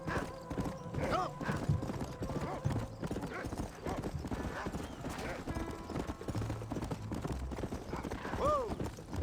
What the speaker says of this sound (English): Oh, my horse isn't fast enough.